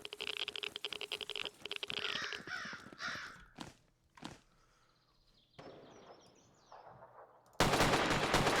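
AK rifle gunfire in the survival game Zero Sievert, with rapid automatic shots and sharp single cracks amid other game effects, ending in a loud burst of noisy static.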